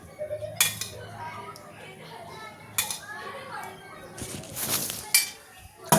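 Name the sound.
mixing makhana dry fruit ladoo mixture with ghee in pan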